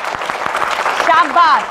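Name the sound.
applause from children in a classroom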